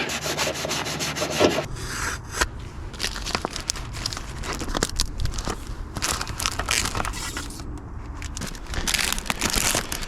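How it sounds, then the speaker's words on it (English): An abrasive Scotch-Brite pad scrubs the gasket face of an engine's exhaust manifold and a little of the cylinder head, a close, continuous rough rubbing and scraping with no talk. "I'm going to scotch right up the face of the exhaust manifold and also just a little bit on the head, only gently."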